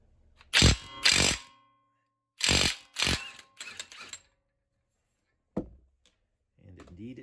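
A burst impact wrench working loose the axle nut on a Honda Odyssey CV axle: two loud rattling bursts, a pause, then two more, followed by a shorter grinding bit, a single clank and faint handling noise.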